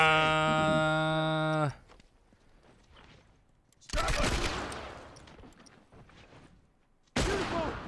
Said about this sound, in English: Grave Fire with some nice corner shooting there